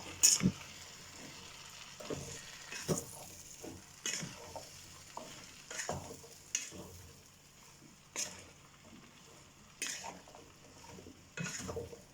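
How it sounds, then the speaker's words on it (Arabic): Spices and ingredients for pumpkin soup stirred in a pot, a utensil scraping in repeated strokes about once a second, with a soft frying sizzle underneath and no talk. "غنبقى نحرك فيه هادشي حتى يدخل فيه الإقامة مزيان"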